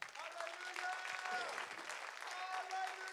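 A church congregation claps hands together in a fast, continuous burst of applause, heard at moderate distance with voices singing or calling out over it.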